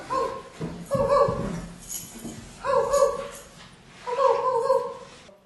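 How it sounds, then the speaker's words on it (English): A dog barks and whimpers in short yelping bursts, three clustered groups over a few seconds, moderately close, with little else around it. "There's a dog barking."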